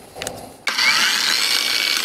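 Cordless angle grinder, Heimerdinger LB168, set to second speed: after a few faint handling knocks it abruptly spins up and bites into thick material, holding a loud, steady high-pitched grinding whine to the end.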